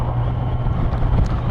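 A 2020 Kawasaki Z900 motorcycle being ridden, with a steady, low engine drone heavily mixed with wind rush for a brief moment, close and continuous.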